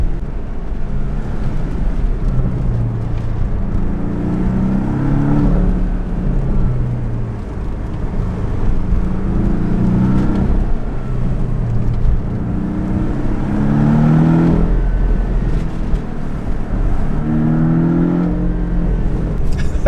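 A Porsche drives a winding mountain road above the clouds on Maui, its engine droning steadily with repeated swells of revving as it accelerates out of bends, close and continuous under road rumble.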